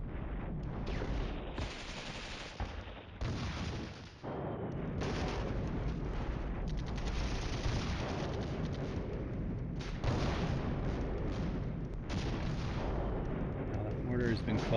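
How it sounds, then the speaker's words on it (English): Artillery fire in the video game Flashpoint Campaigns: Cold War, a dense run of booming shots and rumbling blasts that keeps going without a break, with game audio loud and steady throughout and a voice speaking underneath. "Oh, we're taking artillery now."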